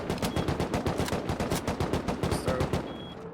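Rapid automatic gunfire in the survival game Rust, a dense run of evenly spaced shots lasting several seconds, loud and close, no voices over it.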